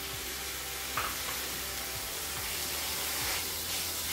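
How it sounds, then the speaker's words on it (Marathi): Tomatoes sauté in a pan over softened onion for anda burji, a continuous hissing sizzle with soft repeated scrapes of stirring, close and steady, no voices. "टोमॅटो चांगले मुशी होईपर्यंत मी हे परतत राहणार आहे"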